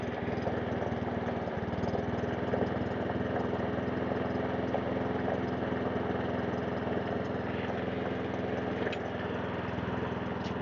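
The small engine of a Webb WER41SP lawn mower idles steadily and evenly with no hunting or surging, a close, continuous mechanical drone that holds the same level for about ten seconds, heard alone without any voices.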